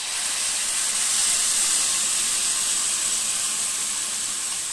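Tamarind broth hits a pan of softened onions, giving a steady, loud hiss and sizzle that holds without a break for the whole stretch, with no voices over it.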